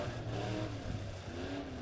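Midwest Modified race cars pull off for a heat race on the quarter-mile Springfield Raceway, their engines a moderately distant, droning rumble that rises and falls slightly, with no voices.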